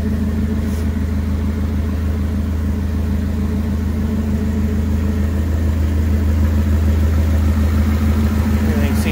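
A homemade go-kart engine runs outdoors at a steady idle, a loud, close, even mechanical drone with a low rumble that holds throughout with no real change in pitch.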